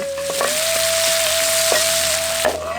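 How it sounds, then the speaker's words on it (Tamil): Curry leaves, chopped onion and green chilies with salt sizzle in oil left from frying eggs, a steady loud crackling hiss broken by occasional scrapes and stirs of a spoon in the pan. "முட்டையை பொரிச்ச எண்ணெயிலே கொஞ்சம் கறிவேப்பிலை, நறுக்கு நார வெங்காயம், 2 பச்சை மிளகாய் கூட கொஞ்சம் உப்பு சேர்த்து வதக்கிட்டு"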